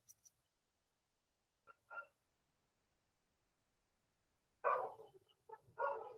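Dogs barking in scattered bursts, a couple of sharp yips early on and then a louder cluster of barks near the end, somewhat distant in an otherwise quiet indoor room during an online class.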